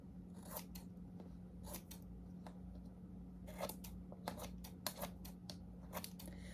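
Scissors snip around the edges of a homemade Zhongli pin in quick, crisp cuts that come in small clusters, some single and some in rapid runs, close and clear over a quiet background.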